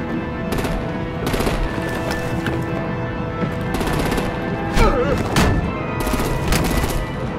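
Heavy gunfire and artillery in the Batman: The Enemy Within video game: loud, dense bursts of rapid automatic shots with sharp booms, continuous across the whole stretch with a constant battle din underneath.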